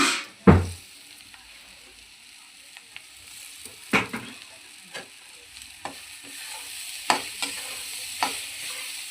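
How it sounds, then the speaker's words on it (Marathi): Onions sautéing in a pan until reddish, for a sushila or poha breakfast: a low, steady sizzle broken by a heavy knock at the start and scattered spatula scrapes and taps against the pan. "मी कांदा लाल परतून घेते"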